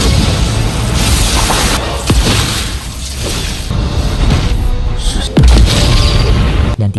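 Animated clash of red and blue thunder energy, a sustained roaring blast with rumbling low end, sharp cracks and a heavy boom near the end, loud and continuous without speech.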